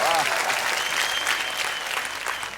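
Audience applause for the teams on an educational school quiz show, a thick wash of clapping that tapers off over a couple of seconds, with some voices mixed in.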